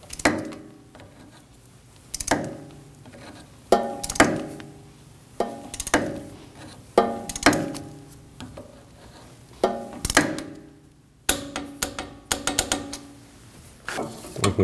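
A torque wrench clicks and ratchets in sharp, spaced bursts while tightening the strut pinch bolt on a 2016-2022 Honda Pilot, each burst a quick series of close metallic clicks with quiet gaps between.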